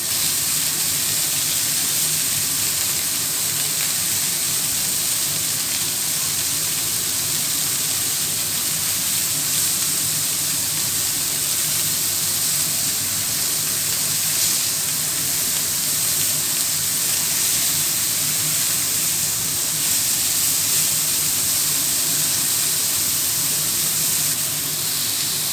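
Venison backstrap steaks searing hot and fast in a pan, a steady loud hiss of spitting fat that holds evenly without pause.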